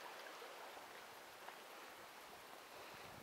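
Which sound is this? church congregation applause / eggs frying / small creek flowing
small creek flowing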